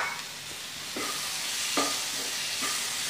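Tomato is stirred into onions frying in a pan for an egg thoran, a soft sizzle broken by a few distinct spoon scrapes about a second apart.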